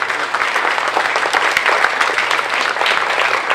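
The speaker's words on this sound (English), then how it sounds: "So I want to applaud those who are here from Florence." An audience at an Italian exchange celebration breaks into loud, dense applause, the many hands clapping steadily and close for several seconds with no voices on top.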